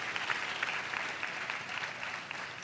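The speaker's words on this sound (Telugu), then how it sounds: "చప్పట్లు కొట్టండి." A church congregation claps together during a Telugu sermon, a steady, somewhat distant patter of many hands that lasts throughout.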